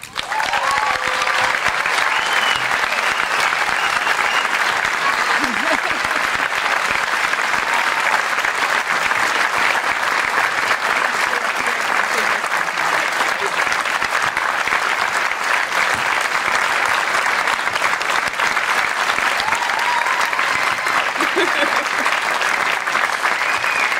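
Sustained, dense applause from a large crowd fills the whole stretch at a college commencement ceremony, steady and loud without letting up.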